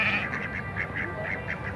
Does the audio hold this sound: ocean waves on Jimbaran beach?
no